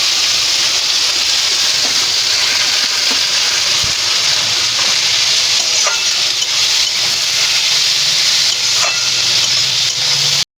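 Chopped onion sizzling in hot oil tempered with cardamom and cloves, a loud continuous frying hiss held throughout with scattered small crackles, no voices.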